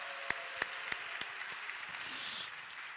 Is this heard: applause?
yes